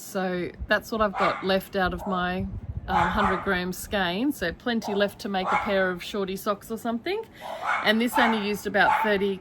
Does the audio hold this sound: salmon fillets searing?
no